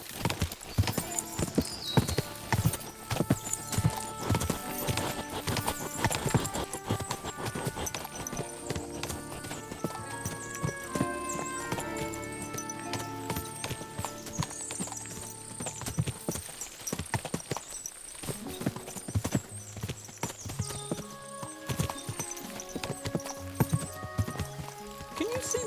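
A large herd of horses in the video game Kingdom Come Deliverance II clip-clops on and on in irregular, overlapping hoofbeats, with whinnies and neighs breaking out over the rhythm throughout.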